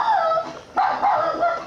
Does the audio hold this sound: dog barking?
yes